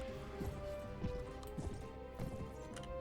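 Cavalry horses gallop in a Mount and Blade: Warband battle, with repeated hoof thuds and clip-clop beats in a steady rhythm beneath a constant droning game soundtrack.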